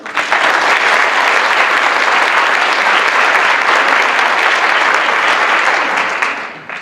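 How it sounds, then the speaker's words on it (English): Sustained applause from an audience at a high school National Honor Society induction ceremony, loud and steady throughout before tapering slightly at the end, with no voices over it. "I think we owe him another round of applause"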